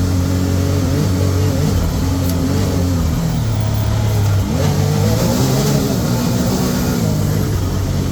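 Can-Am Maverick R X side-by-side driving a trail in Ocala National Forest, its engine droning loud and close, rising and falling as the throttle changes, with rumbling and bumps over the terrain.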